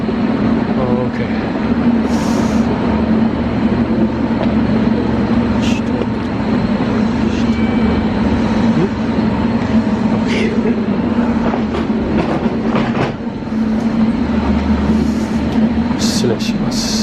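A JR train carries passengers from Fukuoka to Kitakyushu, giving a steady loud rumble and hum throughout with occasional clicks and rattles from the rail car and faint cabin chatter underneath.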